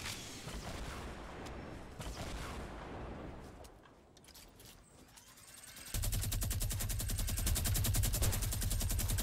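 Rapid automatic gunfire rattles steadily through a Fortnite battle royale match played with golden guns, a quieter stretch of shots giving way to a louder, dense burst of continuous firing with no talking.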